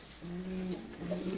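A male pigeon cooing up close, two drawn-out low throaty coos in a clear, fairly loud sequence with no talk.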